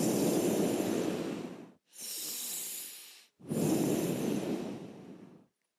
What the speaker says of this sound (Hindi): लेफ्ट से आपको अंदर लेना है सांस को और होल्ड करके धीरे से लेफ्ट से ही वापस छोड़ना है